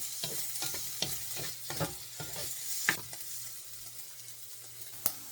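Pork fat sizzles quietly in a pan, turning golden brown, while a utensil stirs and scrapes, with a few sharper clinks along the way.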